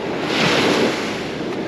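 Ocean waves break and wash onto a beach during surf fishing, a steady, loud surging hiss with wind noise that swells briefly and then settles.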